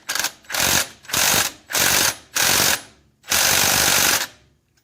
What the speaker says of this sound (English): Just going to use the impact to tighten it.